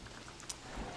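Steady rain falling in a survival video game, a soft continuous hiss of drops with no thunder and no voices.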